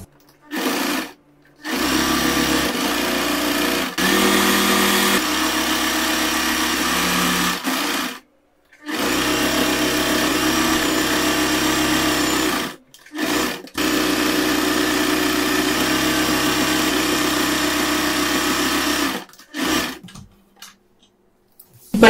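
A sewing machine stitches apron fabric along a quarter-inch seam allowance, running in steady whirring bursts separated by short pauses, loud and close with no talking.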